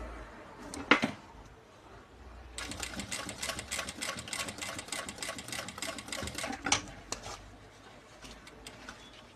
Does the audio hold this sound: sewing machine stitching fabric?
yes